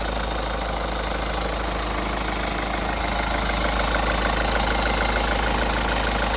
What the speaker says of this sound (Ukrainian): мотор працює рівно